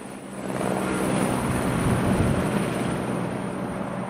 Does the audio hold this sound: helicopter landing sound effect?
yes